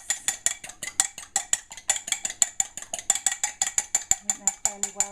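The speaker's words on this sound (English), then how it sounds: "use this jug for well whisked eggs. A bit of wrist action" Eggs get whisked by hand in a jug for a Christmas cake, producing a fast, steady run of close clinking strokes, roughly five per second, with faint knocks near the end.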